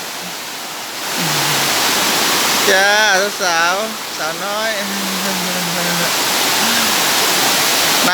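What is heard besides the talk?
Sai Yok Noi waterfall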